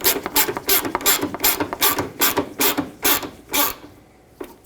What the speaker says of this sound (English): And then the 10mm nut on the bottom, tighten that as well until the bushings squish in a little bit and clamp onto the bumper